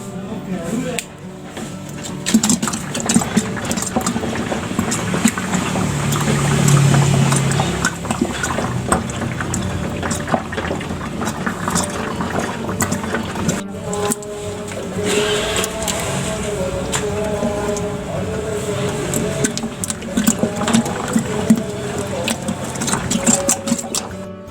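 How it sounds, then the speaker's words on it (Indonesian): A prototype mixer motor stirs manure and water in a biogas mixing tank, giving a steady mechanical whir with liquid churning that runs continuously throughout, moderately loud. "Kotoran diaduk selama 10 menit di tabung pengadukan."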